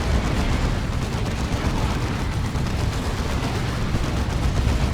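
Sustained battlefield gunfire and artillery roar from a Dawn of War 2 multiplayer match, a dense continuous rumble of shots and blasts with no clear gaps, loud and steady throughout.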